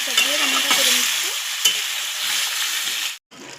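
Potato, eggplant and Malabar spinach cooking together in a pan, a continuous soft sizzle with a few stirring scrapes, close and fairly steady, cutting out briefly near the end.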